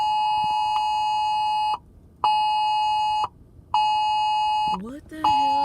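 A phone on its charger beeps loudly and steadily in long tones with short gaps, then a brief tone sweeps and shifts at the end, with talking underneath.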